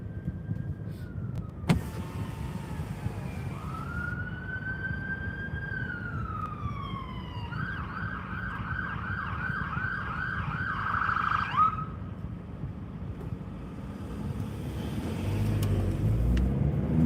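Ambulance siren wailing and then switching to a rapid yelp as it crosses a busy town roundabout, loud and close over steady traffic rumble.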